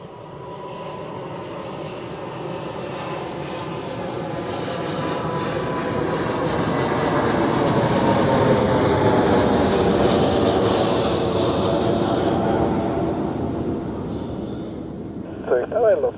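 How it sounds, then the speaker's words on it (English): An Air Anka Airbus A330 from Antalya lands on runway 14 at Zurich Airport, its engine roar swelling steadily over about sixteen seconds into a loud sustained rumble, then easing slightly near the end. "Just in time for the next heavy landing and an Air Anka A330 from Antalya."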